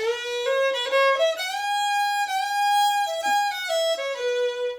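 A solo fiddle plays a bright, clear melody of single notes without double stops, with short bowed phrases and a few quick slides, close and without accompaniment.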